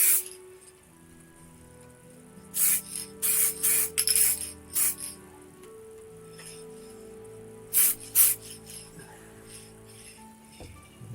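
Short hissing bursts of spray paint laying a coat on a pumpkin build, in a quick cluster of pulses and then a couple more after a pause, over a low steady hum.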